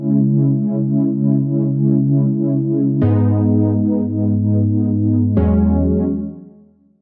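Warm, muffled Omnisphere synth pad plays sustained poly chords with the filter cutoff turned down, three chord changes with a deep sub layer underneath, fading out at the end.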